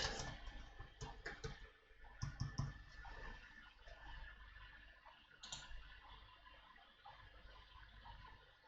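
Quiet, close clicking of typing on a computer keyboard, coming in irregular short bursts with brief pauses over a low room background.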